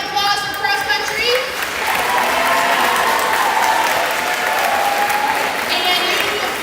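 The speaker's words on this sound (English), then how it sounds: "Round of applause for cross-country." A crowd at a high school homecoming pep rally applauds continuously for the cross-country teams, dense clapping and cheering throughout with some voices underneath.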